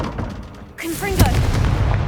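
A Confringo blast spell in Hogwarts Legacy goes off with a sudden booming burst and a whooshing, crackling tail that rings out loudly, following a brief quieter lead-in.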